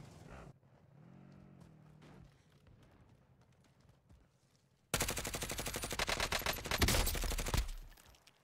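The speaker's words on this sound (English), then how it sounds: "There's shots up by the TV station." Rapid automatic gunfire in Call of Duty Warzone bursts in loudly after a quiet stretch and keeps up as a dense, sustained volley for the last few seconds.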